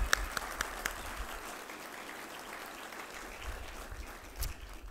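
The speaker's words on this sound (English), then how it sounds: "A round of applause." Quiet scattered applause from an outdoor crowd at a softball and baseball field dedication, thin and somewhat distant, fading to a soft patter after a few sharp claps at the start.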